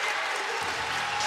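A basketball crowd on its feet applauds at a women's college game, steady clapping that swells into fuller, louder applause partway through.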